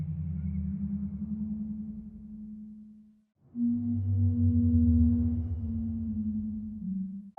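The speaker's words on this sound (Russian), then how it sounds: "Звуки китов, но в Майнкрафте их не существует." Minecraft underwater ambient sound resembling whale calls: two long, low, wavering moans separated by a brief silence, droning and resonant, with no other sounds.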